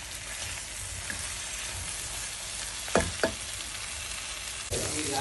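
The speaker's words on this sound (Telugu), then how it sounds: "ఒకసారి అట్లా ఇట్లా కలిపేసి ఫ్రై ఆఫ్ చేస్తే రొయ్యల ఫ్రై ఈజీగా అయిపోయింది." Shrimp sizzle in a hot pan with a steady frying hiss, with two sharp utensil scrapes from stirring near the middle and a louder burst of sizzling toward the end.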